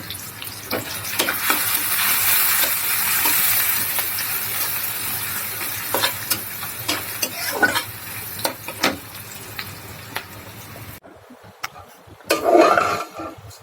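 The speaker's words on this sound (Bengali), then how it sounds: "রাত্রিবেলা করে আমি এখন সিমাই রান্না করছি" Semai (vermicelli) frying in a pan at night in a home kitchen: a steady, loud sizzle with repeated stirring scrapes and taps, fading to quiet near the end before a final clatter.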